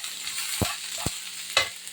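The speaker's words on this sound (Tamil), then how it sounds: "ஃபஸ்ட்டு வந்து ஆனியனை போட்டுக்கலாம்" Onions sizzle in hot oil in a pan for a brinjal gravy, a steady close hiss broken by a few sharp scraping stirs.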